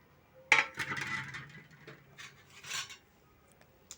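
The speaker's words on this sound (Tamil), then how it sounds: "இப்போ மூடி வச்சுக்கலாம். திறந்துக்கலாம்." A metal lid clanks down sharply onto a pot of fish curry, followed by a few softer clinks and rattles as it is shifted and lifted again, close by.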